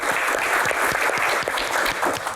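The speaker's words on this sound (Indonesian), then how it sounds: "Tepuk tangan dulu untuk box ini." A studio audience claps together for a box being opened on a televised Q&A show. The applause is loud, dense and close, filling the room for a short burst.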